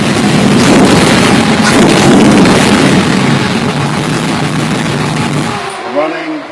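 A T-bucket hot rod engine runs loud and rough, a dense close-up roar that fades toward the end and cuts out, leaving a few faint tones.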